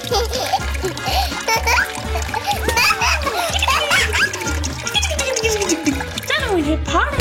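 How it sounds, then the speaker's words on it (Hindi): Water balloons burst and splash in a home turned into a trampoline play area, with repeated wet splatters and trickling water close by, while children talk and shout excitedly throughout. "पानी वाले गुब्बारे।"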